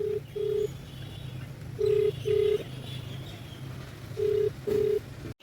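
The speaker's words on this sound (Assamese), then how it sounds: "কাষ্টমাৰক ফোন কৰিছোঁ।" A phone call to a delivery customer rings out as a steady ringback tone in three evenly spaced double beeps. It is heard clearly over a quiet background hum.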